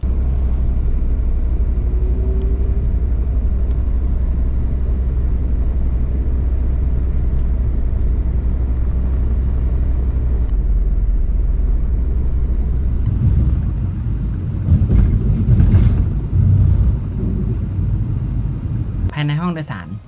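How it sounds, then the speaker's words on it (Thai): Steady low rumble inside the passenger cabin of an electric EV NEX Express minibus on the road between Bangkok and Si Racha, a constant drone that grows rougher and bumpier near the end. "รถมินิบัส EV นี้เสียงจะเหมือนกับรถยนต์ทั่วไปหรือไม่"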